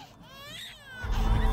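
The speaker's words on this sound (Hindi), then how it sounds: "जरा रोते हुए इस बच्चे की चीख सुनिए।" A young infant cries and screams up close in high, wavering wails. A loud low rumble of background noise swells in near the end.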